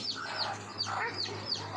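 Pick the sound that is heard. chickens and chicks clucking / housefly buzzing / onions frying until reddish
chickens and chicks clucking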